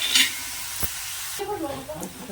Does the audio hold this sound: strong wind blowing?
no